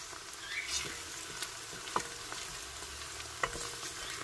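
Onions frying in hot oil in a pot for Afghan zamarod palaw, a soft steady sizzle with a few faint clicks of a utensil, fairly quiet and continuous with no talking.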